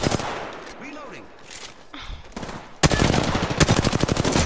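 Gunfire in the Apex Legends video game: a few scattered shots early on, then from about the midpoint a loud, dense burst of rapid automatic fire that runs to the end.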